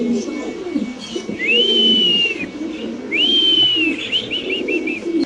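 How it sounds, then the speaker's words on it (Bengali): Spanish pigeons in a home pigeon farm coo low and steadily in the background, while two long, clear whistle-like tones and a few short chirps ring out above them. "মাশাআল্লাহ কত সুন্দর এই কবুতরগুলা"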